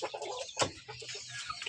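Clucking from a young jungle fowl crossbreed chicken, about three months old, kept for use as a decoy bird: a run of close, fairly loud clucks with one sharper call near the middle, no talking.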